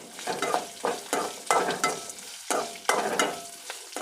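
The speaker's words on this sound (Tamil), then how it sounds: "ஒரு வெங்காயத்தை போட்டு நல்லா வதக்கிக்கணும்" Onion sautéing in a pan for semiya upma, loud close sizzling in rhythmic bursts as a spoon stirs it about every half second, no voices.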